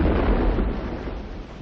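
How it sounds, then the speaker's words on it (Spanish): The warship cruiser Aurora fires a salvo shot: a loud, low, rumbling boom that decays over a second or so, heavy and muffled like an old recording. "El crucero de guerra Aurora efectúa un disparo de salva."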